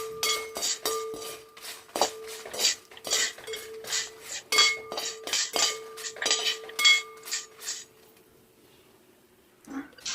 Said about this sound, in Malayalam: ഇതും കൂടി ചേർത്ത് കൊടുത്ത് നന്നായിട്ട് ഇളക്കി കൊടുക്കും